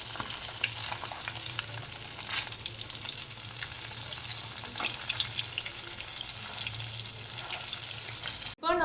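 Fish frying in a pan at home, a steady close crackling sizzle running throughout with occasional sharper pops, ending abruptly.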